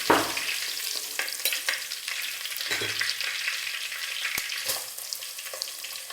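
Curry leaves and small shallots frying in hot oil for a crab pepper fry, a steady close crackling sizzle with occasional stirring scrapes and pops throughout.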